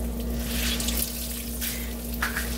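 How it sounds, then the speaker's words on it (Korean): Boiled, rehydrated dried bangpung greens are wrung out by hand, and water trickles and splashes steadily into a sink close by, with a few louder spatters and no talking. "물기를 짜겠습니다."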